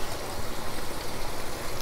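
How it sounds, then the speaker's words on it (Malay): A little water is poured into a pot of cooking eggplant in tamarind sauce, a short continuous splashing trickle, close and fairly loud. "Tambahkan sedikit air"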